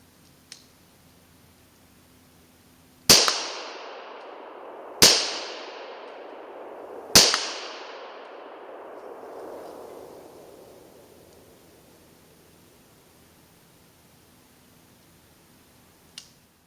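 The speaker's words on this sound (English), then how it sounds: "let's roll a clip of first time shooting under night vision" Three sharp gunshots fired at night ring out about two seconds apart, each loud crack trailing off into a long echoing decay across open ground, with quiet before and after.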